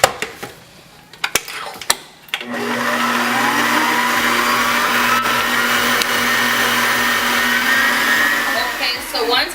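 Electric stand mixer beating cookie dough for s'mores cookie cups, a steady close whir starting after a few clinks and continuing without a break.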